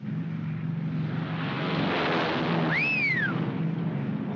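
Aircraft flying past, a loud steady roar that swells and then shifts in pitch as it goes by, with a falling whine near the end.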